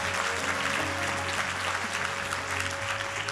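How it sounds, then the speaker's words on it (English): Audience applause for guests at a book launch, a dense, steady round of clapping from a large crowd filling the whole stretch at even loudness. "a warm round of applause for all our wonderful guests this afternoon"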